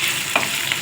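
A spoon stirs chopped potatoes through a hot frying pan for farali shingdana khichadi, a soft scraping sweep with a faint sizzle underneath, close and brief.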